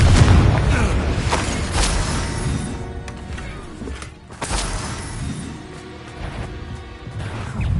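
The Confringo blasting spell from Hogwarts Legacy on PS5 sets off a loud, dense crash of explosive booms and crackling impacts that rolls on throughout and swells again midway, while combat noise and voices mix in.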